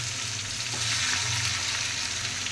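Crushed green chili and garlic fry in an iron wok with a loud, continuous sizzle, close and steady throughout, alongside a low constant hum.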